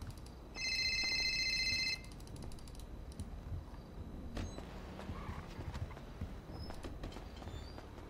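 A phone rings in the GTA roleplay game on the NoPixel 4.0 server: one loud, bright ringtone burst lasting over a second, followed by quieter keyboard typing and clicks.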